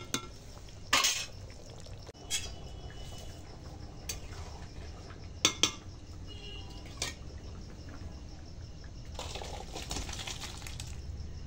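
Spoon stirring and mixing potato curry (aloo dum with peas and coriander leaves) in a pan, quiet scraping with a few sharp clinks of utensil on metal spread across a soft background.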